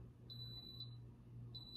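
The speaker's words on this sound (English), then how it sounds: "you just press the power button once and it'll turn off the beeping" Two long, high electronic beeps from a VEVOR heat press sound a second apart, faint and steady over a low background hum.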